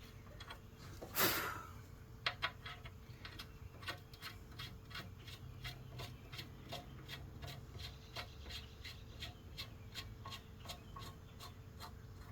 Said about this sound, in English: Get some of that rust off the bolts.